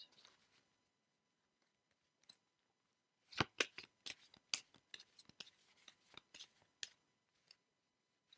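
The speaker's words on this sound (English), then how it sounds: "now we're shuffling the classical tarot cards" Classical tarot cards are shuffled close up, a burst of crisp riffling snaps and slaps following a few light taps, fairly quiet with no talk.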